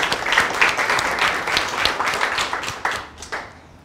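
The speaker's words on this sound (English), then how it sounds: "let's just give them a hand of applause" Audience at an academic talk on synthetic 5-MeO-DMT claps for a few seconds, a moderately sized group of hands with distinct individual claps that thin and fade toward the end.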